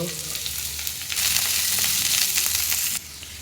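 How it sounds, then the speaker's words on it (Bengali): Garlic, onion and chopped chili fry in hot oil, a loud steady sizzle that surges louder after a second, then drops sharply near the end to a quieter crackle. "রসুন, পেঁয়াজ, মরিচ কুচি দিয়ে দেবো। ভালো করে ভেজে নেব।"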